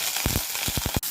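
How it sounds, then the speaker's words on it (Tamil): Mustard seeds crackling in hot oil in a pan, the start of a tempering for a ridge gourd side dish, with a steady sizzle broken by a run of quick, sharp pops close by. "ஆயில் விட்டு 1 டீஸ்பூன் அளவுக்கு கடுகு பொரியவும்"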